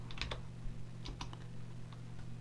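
Quick bursts of keystrokes on a computer keyboard, faint and close, with short clusters of taps separated by brief pauses over a low steady hum.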